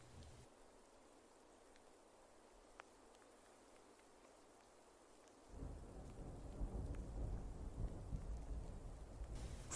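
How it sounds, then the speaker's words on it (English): Quiet rain patters at first, then a low, distant rumble of thunder rolls in and continues under the falling rain. "it starts to rain, and far away in the distance, you hear a low rumble of thunder"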